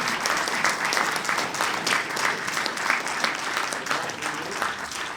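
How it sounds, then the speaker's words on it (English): A university audience at a college Q&A gives sustained applause to the speakers, dense, even clapping from many people filling the whole stretch without voices. "if we could give a round of applause to our speakers"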